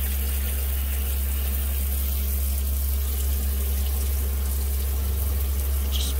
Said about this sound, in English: turn on the shower head